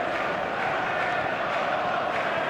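A stadium crowd in the eFootball 2023 video game roars in a steady, dense wash of cheering that fills the background without a break.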